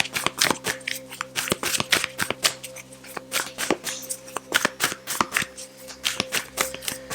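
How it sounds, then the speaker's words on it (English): Rapid riffling and snapping of playing cards being shuffled, several quick bursts in irregular rhythm, close and crisp, with no voices. "Few shuffles."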